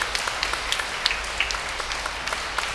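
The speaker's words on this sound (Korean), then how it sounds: "큰 박수 부탁드리겠습니다." Applause from the congregation at a Catholic parish ceremony during a flower-basket presentation: a steady, diffuse patter of many hands, moderately loud and with no voices over it.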